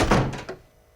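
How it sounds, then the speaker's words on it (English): A door is slammed shut indoors with a single loud thunk and a brief rattle, followed by quieter settling sounds and a faint knock near the end. "Shut the door! Shut the door!"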